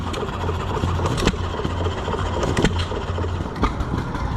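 An antique gas engine on display at a county fair runs in a loud, steady chugging rumble with periodic heavier thumps, running slightly faster than idle, close by and without talk.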